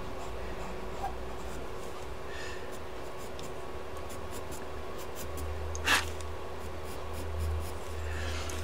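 Coloured pencil shading on paper with the pencil twisted as it moves, a soft continuous scratchy scribble close by, with a brief sharper scrape near the end and faint low background hum.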